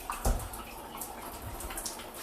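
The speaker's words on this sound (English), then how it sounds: "It's gonna drip for a while" Water drips from a newly installed bathtub spout, a few soft, irregular drops and splashes falling close by over a quiet background.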